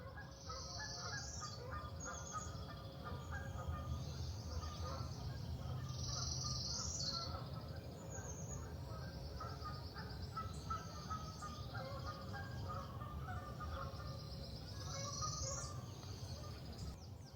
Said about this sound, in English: We've got a lot of birds and stuff going on